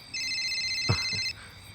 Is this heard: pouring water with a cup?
no